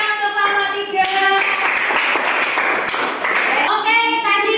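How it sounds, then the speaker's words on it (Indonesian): Indoor audience clapping for a group after a classroom presentation, a steady wash of many hands for several seconds, with a sustained tonal voice or chime running underneath. "Berikan tepuk tangan untuk kelompok 3"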